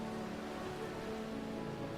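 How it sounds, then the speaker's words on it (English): Steady broadband rush of small falling water, continuous and fairly close, a little stream spilling over the edge of grassland above a beach as a small waterfall. "A little stream, reaching the edge of the grassland above the beach, forms a little waterfall."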